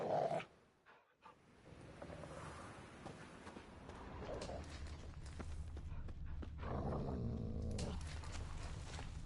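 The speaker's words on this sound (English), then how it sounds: "Just beware of the dogs." Dogs in the video game The Witcher 3, played on PS5, growl and pant continuously at moderate volume against low game ambience, with a short louder burst at the start.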